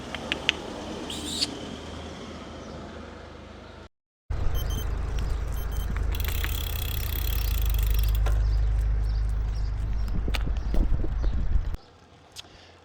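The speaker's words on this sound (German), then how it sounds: "da hast du hier zwei Esel" Two donkeys walk along a street in Gozo, their hooves tapping in sparse, irregular clip-clops over a low outdoor rumble, with a brief dropout early on.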